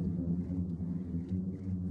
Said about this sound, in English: The sound is coming from these sand dunes, like a long note from a musical instrument.